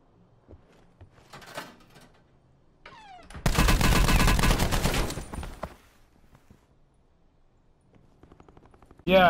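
Rapid automatic gunfire from a weapon in a video game, a dense loud burst lasting about two seconds with a few scattered shots and clicks around it, ending in a sharp loud blast.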